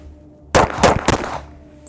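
A .45 ACP pistol firing after being caked in mud during a torture test, three or four loud sharp shots in quick succession outdoors, ringing briefly afterward.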